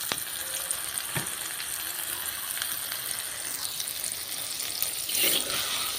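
Food sizzles steadily in a frying pan close by, a constant crackling hiss with a few sharp pops and a brief louder burst near the end.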